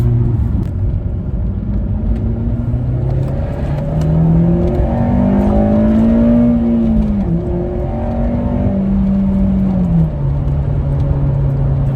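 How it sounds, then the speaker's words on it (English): A Honda Civic Type R VTEC engine revs hard under acceleration, pitch climbing and dropping across gear changes, loud with rumbling road noise beneath. "The VTEC sound really is great."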